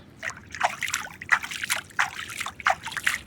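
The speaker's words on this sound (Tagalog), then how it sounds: "Ngayon nilagyan ko ng tubig guys." Water is poured onto a tomato plant, trickling and splashing in short uneven bursts, close by, with soft sloshing between pours.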